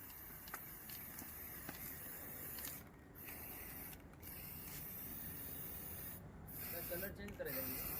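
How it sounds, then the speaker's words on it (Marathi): A can of black spray paint sprays a vehicle in several faint, long bursts of hiss separated by short pauses. "स्प्रे मारा चालू केला आम्ही आता"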